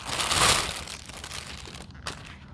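Plastic packaging bag around motocross goggles crinkles and rustles close up, loudest at first, then softer handling with a sharp crackle near the end.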